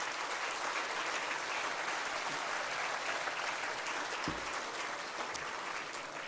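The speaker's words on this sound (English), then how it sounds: "please give them a big round of applause to welcome them." Sustained, dense audience applause fills a hall at the 22nd annual awards ceremony, steady and loud throughout with no voices over it.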